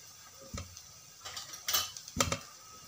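Spoon stirring coriander powder, onion-garlic masala and chili powder into fried ground masala paste in a pan, giving a few scattered scrapes and clinks at close range with no talk.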